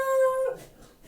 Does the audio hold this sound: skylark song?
no